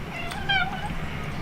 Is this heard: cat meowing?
yes